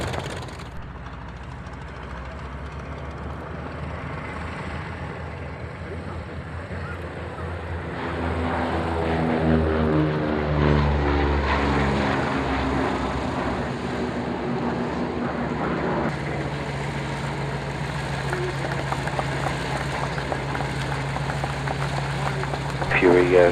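A Fairey Swordfish propeller aircraft taxis at the Duxford Flying Legends airshow, its engine a steady droning rumble with rising and falling harmonic tones, loud and continuous, with radio chatter over it.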